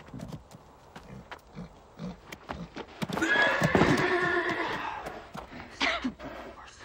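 A horse whinnies loudly for a few seconds, with hoof clops and shuffling before and after, close by.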